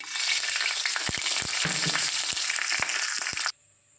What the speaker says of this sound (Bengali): তেল গরম হয়ে গেছে, আম ডালের ফোড়নে দেওয়ার জন্য সর্ষে আর শুকনো লঙ্কা।